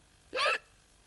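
A single short, sharp hiccup-like gasp, close and clear, in an otherwise quiet moment.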